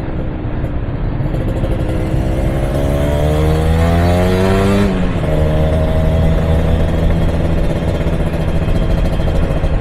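Kawasaki Ninja two-stroke motorcycle engine on a ride, its buzzing tone rising through the revs, dropping at a gear change, then droning steadily, loud and close with wind noise.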